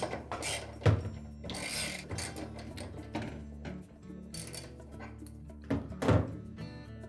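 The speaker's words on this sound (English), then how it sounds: "So with a socket and a ratchet, you'll need to grasp the barrel of that agitator to keep it from moving." Socket ratchet turning the hex bolt inside a Whirlpool washer agitator, with clicking pawl runs, metallic knocks and a couple of heavy thunks, close and moderately loud, no voices.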